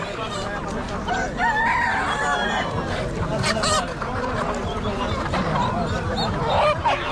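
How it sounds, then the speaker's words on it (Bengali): Native red chickens and roosters packed in large cages at a busy village market in Bangladesh crow and cluck loudly and repeatedly over a constant crowd murmur. "বড় বড় খাঁচাতে কিন্তু এরকম দেশি মুরগ মুরগি নিয়ে আসা হয়েছে"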